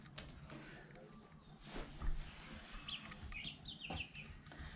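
Young chickens cluck and peep softly in a group, scattered chirps over faint shuffling and background noise, fairly quiet.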